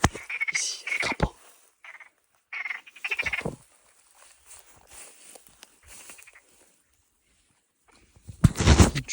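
Toads croak in short, loud, close bursts separated by quiet gaps, with faint rustling in between and a heavy scuffing thud at the end.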